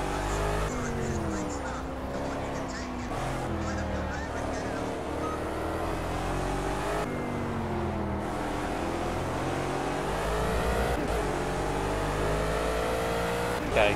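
In Project CARS at the Nürburgring, a Gumpert Apollo S engine-brakes into turn one, its loud, steady engine note dropping through the revs as it slows, with a commentator talking over it.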